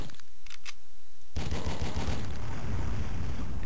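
Video game gunfire from The Fifth Element, a sustained burst of dense, rapid shots erupting loud after a brief quieter lead-in and continuing to the end.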